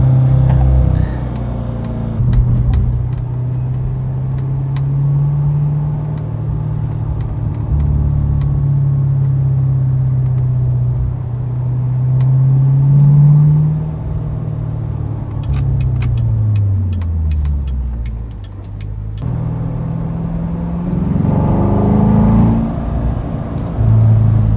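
A 2014 Chevrolet Corvette Stingray engine with manual transmission rumbling and revving, pitch rising and falling through gear changes over a steady road drone, loud and sustained.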